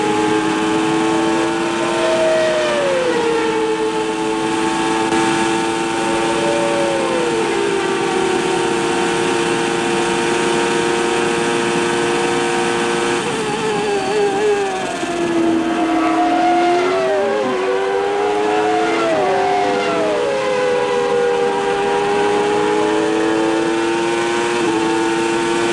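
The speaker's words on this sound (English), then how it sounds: "How quickly the gears change" 1994 Formula 1 race car engines scream loud and continuous, their pitch climbing then dropping sharply with each rapid gear change, several cars overlapping at a Spanish Grand Prix circuit.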